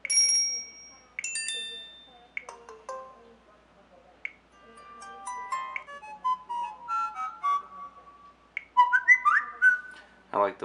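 Whistled ringtone from a Samsung Galaxy S2 phone: short bright whistle notes and melodic phrases play in bursts, clear and close, with brief gaps between repeats.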